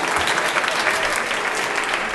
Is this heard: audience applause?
yes